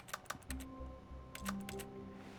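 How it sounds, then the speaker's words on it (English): Keyboard typing in The Stanley Parable, two quick bursts of soft clicking keystrokes, one at the start and one toward the end, quiet and close, with a faint low hum in between and no speech. "How am I typing when I don't have a keyboard in front of me?"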